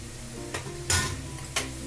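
Egg curry masala with salt and chopped tomato sautéing in a pan, a low steady sizzle broken by three short bursts of stirring scrapes, close and moderately quiet.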